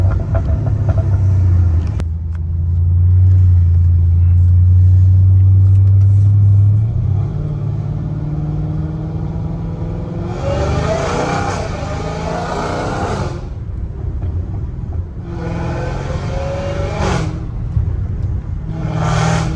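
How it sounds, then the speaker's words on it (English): A straight-piped 850 hp Dodge Challenger Hellcat Redeye rumbles with a deep, loud idle drone, then barks into a series of hard, raspy revs and roaring bursts close by, with no talking. "Definitely having a car this loud is like, it should be illegal, obviously."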